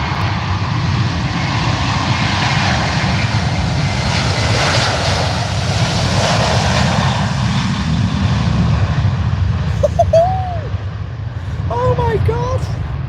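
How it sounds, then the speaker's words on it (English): An Aer Lingus Airbus A330 departs Manchester Airport with a loud, close, sustained jet roar that swells and holds, a few brief chirps surfacing near the end. "That now, this Aer Lingus A330. That's the highlight of the stream. That's the best departure we've seen on this stream."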